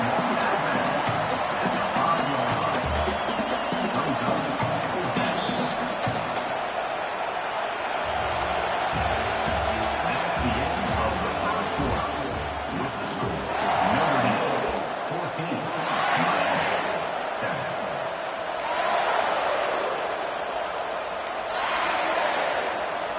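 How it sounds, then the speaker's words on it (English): A roaring stadium crowd at a Notre Dame college football game, swelling in loud surges as the defense tries for a fourth-down stop, with a commentator talking over the din throughout. "This crowd busting the decibel meter and trying to will a fourth down stop"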